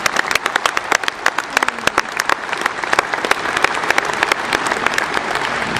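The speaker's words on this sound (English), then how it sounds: "please show these exhibitors a huge round of applause" A crowd at a Red and White dairy cattle show claps for the junior exhibitors, loud and close, with sharp individual claps standing out from a continuous wash of applause.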